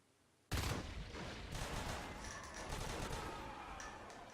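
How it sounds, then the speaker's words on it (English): Gunfire in a Natural Selection 2 competitive match: a sudden loud burst of rapid shots begins after a brief quiet moment and continues as dense, sustained firing. "double pistol kill here by Solar in Overlook"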